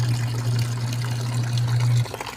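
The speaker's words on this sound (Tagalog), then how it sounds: "nilalagyan natin ng tubig" Water runs steadily as a washing machine fills for a load of laundry, a loud, continuous rushing pour with a low pump hum that stops near the end.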